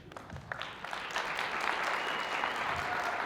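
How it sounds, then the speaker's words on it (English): Audience applause for sponsors and partners at the 2025 FPJRNM awards ceremony, building from scattered claps into a full, steady ovation from a large crowd in a hall. "Let's have a big round of applause for all the sponsors and partners."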